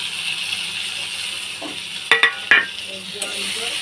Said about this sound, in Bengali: টমেটো দিয়ে একটু ভেজে নেওয়া হবে